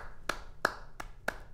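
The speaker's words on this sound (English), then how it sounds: "two sets of hands clapping" Four sharp hand claps, two pairs of hands striking in turn at an even, steady pace, close and fairly loud against a quiet room, with no talking.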